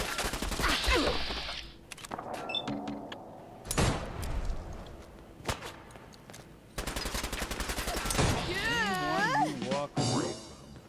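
Gunfire in the video game Fallout 4 comes as several sharp, separate shots and short bursts between quieter moments. Other game effects and warbling tones are mixed in around the shots.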